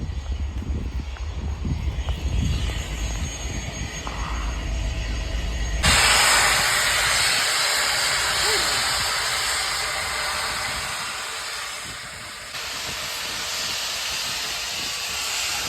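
Steam locomotive passing at Carlisle station, with a deep rumble at first, then a loud, sustained broadband hiss of steam that fades slightly toward the end.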